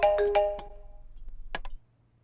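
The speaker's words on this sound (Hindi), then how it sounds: "तुम्हारा फोन रिंग हो रहा है नहीं, ये चेक करने आए हैं बेटा" A mobile phone ringtone plays a few bright, bell-like melodic tones close by. It pauses, gives two more short notes and then cuts off abruptly.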